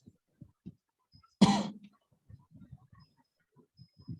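A person gives a single sharp, close cough amid soft, quiet clicks and muffled low sounds before and after.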